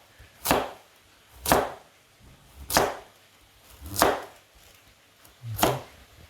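A knife chops ingredients on a board for Kyrgyz pilaf, five sharp, evenly spaced cuts about a second apart, close and distinct with no talk over them.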